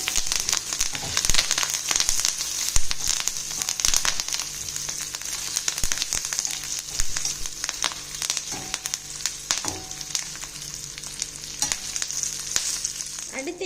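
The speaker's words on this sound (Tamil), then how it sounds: "கருவாடு நல்லா வெந்துட்டுருக்குங்க." Dried anchovies frying in oil in a pan with green chillies and curry leaves, a continuous close crackling sizzle with irregular sharp pops and occasional stirring scrapes.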